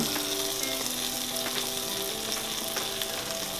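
A grilled cheese sandwich with tomato frying in a pan, giving a steady, close sizzle with crackling pops throughout and no voices.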